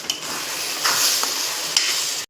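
Tomato puree, ground from large tomatoes, sizzles steadily in a hot pan while being stirred, a close continuous frying hiss broken by a few scraping stir strokes.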